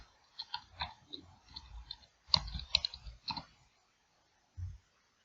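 Mouse clicks while working in Power BI, a handful of soft, close clicks scattered across a few seconds with small handling noises between them, no talking.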